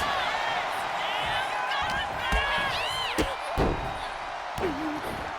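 Arena crowd cheering and whooping during a WWE 2K25 wrestling match, a steady roar with rising whistles and shouts and a few sharp thuds.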